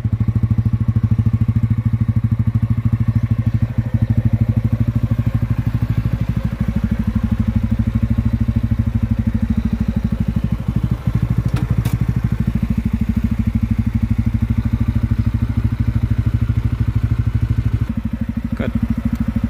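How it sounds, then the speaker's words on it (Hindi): A TVS Ronin 225 motorcycle idles steadily, its exhaust giving a loud, continuous low rumble with a fast regular pulse throughout, close up and with no talk. "मैं इसको एक बार आपको ऑन करके एग्जॉस्ट का आवाज़ सुना देता हूँ"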